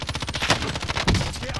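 Automatic weapon fire in Call of Duty Modern Warfare, fast rattling bursts close up with heavier booming shots mixed in, all crammed into a short frantic stretch.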